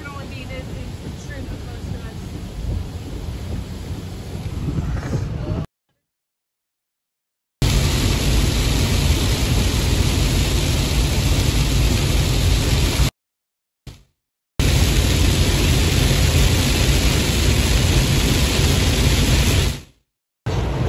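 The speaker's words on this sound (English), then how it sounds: "I know the wind's picking up pretty good" Strong wind blowing during a tornado chase in a November tornado outbreak, a loud, steady roar of rushing air that continues with several abrupt cutouts into silence.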